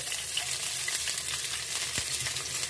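Steady crackling sizzle of onions frying in a hot pan, continuous and close, with an occasional clink of a utensil.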